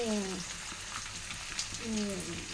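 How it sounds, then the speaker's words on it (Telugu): Onions and dried red chillies fry in hot oil with a steady, close sizzle, broken by a couple of brief tonal murmurs near the start and end. "ఇప్పుడు ఉల్లిపాయలు వేసుకుంటాను. ఉల్లిపాయలు, ఎండుమిరపకాయలు వేసాను."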